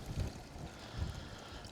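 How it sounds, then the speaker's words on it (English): Strong storm wind blows outdoors during a fishing drone test, a low buffeting rumble against the microphone with two gusty swells, steady and alone without talk. "That wind has actually picked up even more."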